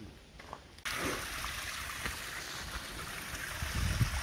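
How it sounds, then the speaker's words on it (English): River water rushing steadily on a cool outdoor walk through England or Wales, a broad continuous roar that swells suddenly and then stays loud and close. "Can hear some water rushing."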